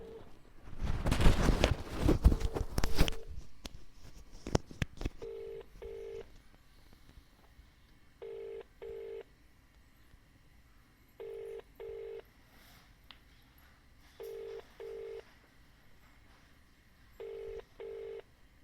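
After some close handling noise and clicks, pairs of short telephone keypad tones sound at intervals, clear and isolated against quiet.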